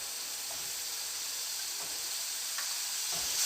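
Ginger garlic paste and chili powder sizzle in a hot pan, a steady hiss that grows slightly louder toward the end, with a few soft stirring taps and no voices.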